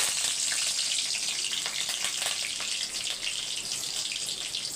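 Green chillies and curry leaves hiss in hot oil, a bright, dense, continuous sizzle heard up close with faint crackles running through it and no talking.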